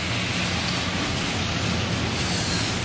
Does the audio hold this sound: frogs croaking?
no